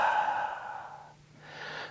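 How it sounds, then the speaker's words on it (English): A slow, steady exhale during yoga breathing practice, heard as a soft, close breathy rush that fades briefly and then swells again. "Take a nice big inhale, slow exhale."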